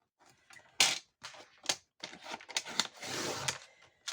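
Paper being cut to size for a handmade greeting card, a series of short, crisp snips and crunchy cutting strokes in quick irregular bursts, close and fairly quiet with no talking.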